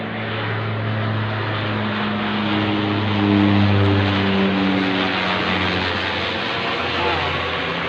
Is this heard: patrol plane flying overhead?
yes